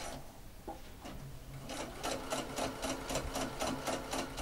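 Sewing machine edge stitching a hem with a large stitch length, a steady fast rhythmic clatter of the needle that starts softly and runs close and even, with no talking.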